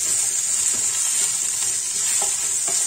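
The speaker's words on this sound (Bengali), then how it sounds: "ভালো করে একটু কষিয়ে নেব" Salted titor jhol fries in a pan while a spatula stirs it, a loud steady hiss with occasional soft scrapes and taps up close, no speech.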